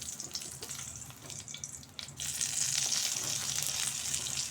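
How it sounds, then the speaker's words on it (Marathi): Brinjal (eggplant) sautéing in a pan hisses and crackles close by, quieter at first and then swelling into a louder, steady sizzle after a brief knock. "तर दोन्ही तिन्ही बाजूनी चांगलं ते वांग परतून घ्यायचं आपल्याला"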